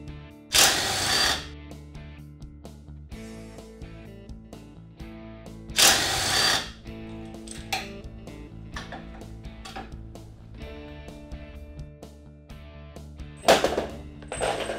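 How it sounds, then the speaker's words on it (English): Bolts holding an EZGO RXV golf cart steering rack to the frame are worked with a socket and extension, giving quiet ratcheting clicks and metallic handling noises, broken by three louder bursts of rattling. "by using an extension, we can get to the bolts that hold the steering rack to the frame"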